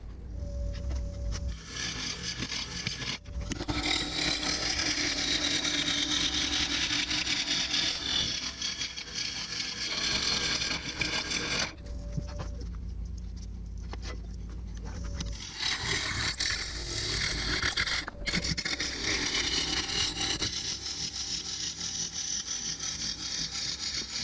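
Woodturning tools are sharpened against a grinder in long, loud, continuous scraping passes, with short pauses between them and no talking.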